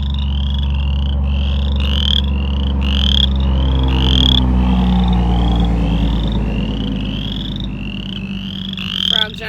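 Chorus frogs call loudly and close from a vernal pool, repeated rising trilled croaks in quick succession over a low steady rumble of road traffic.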